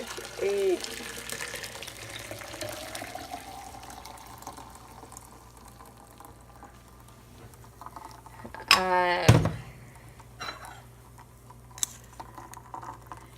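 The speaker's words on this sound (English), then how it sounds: "now I'm just using a wire mesh strainer. I'm just going to pour it into a jar" Homemade coconut milk poured through a wire mesh strainer into a jar makes a short, splashy burst of liquid about two-thirds of the way through, over a faint, quiet room background.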